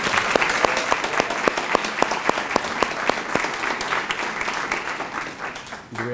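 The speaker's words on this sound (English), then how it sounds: "How about a round of applause for Jaden again?" An audience at a civic State of the Cities event gives a steady, dense round of applause, loud and continuous with clear individual claps throughout, ending abruptly.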